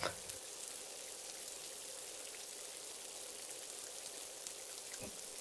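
Heavy rain pours during a storm as a cartoon sound effect, forming a steady, even wash of hiss that holds for the whole stretch without breaks.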